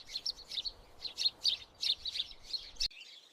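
Small birds chirp in a quick, repeated series of bright tweets, fairly close and clear, with steady soft background noise and no talking; the calls stop abruptly near the end.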